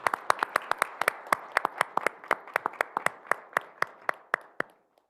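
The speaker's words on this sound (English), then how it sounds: "Round of applause would be in order." A small group claps at a school board meeting, sparse and distinct individual claps close by, thinning out and stopping after about five seconds.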